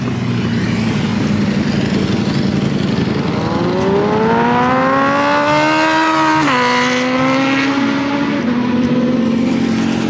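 Motorbikes passing close by on a road, their engines climbing in pitch and roaring loudly as they approach, then dropping sharply as they go past, with steady background noise and no talking.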